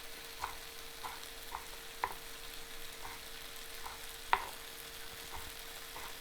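An egg fries quietly in a pan, giving a soft, steady sizzle with faint pops and light ticks scattered through it, and no talking.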